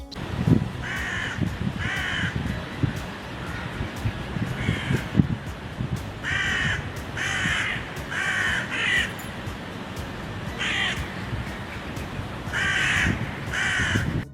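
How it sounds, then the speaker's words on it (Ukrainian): A crow caws repeatedly in short paired and triple bursts at moderate distance, over soft outdoor rustling and background noise, with no talk. "давайте послухаємо, як кричить ворона"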